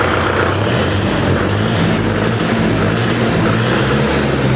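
A loud, steady Kubota MU4501 tractor engine drone with a low rumbling hum, revved indoors in a showroom, runs unbroken throughout, close up and constant without pauses or voices.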